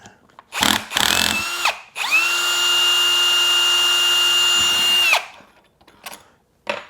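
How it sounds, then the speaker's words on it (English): A cordless drill loosening a bolt on a Harley-Davidson starter whirs at steady high speed for about three seconds, preceded by short bursts of revving, then stops abruptly; close and loud. "my drill needs a little more torque"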